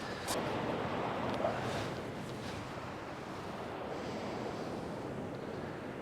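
Waves wash over the shingle of Chesil Beach during an evening of sea fishing, a steady broad roar mixed with gusty wind buffeting the microphone, with no voices.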